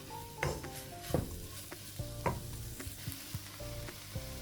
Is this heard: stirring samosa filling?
yes